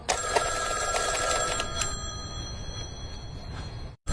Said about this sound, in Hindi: उठाओ राठौर, फोन उठाओ।